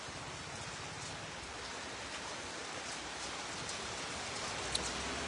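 Heavy monsoon rain pouring steadily with strong wind, a dense even hiss of drops on surfaces that stays loud and unbroken throughout.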